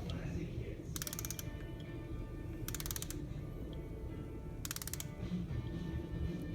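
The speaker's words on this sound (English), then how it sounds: "Tighten it down again." A ratchet clicks in three short quick bursts while tightening the injector adjusting screw on a Cummins ISX engine, heard close over a steady low background hum.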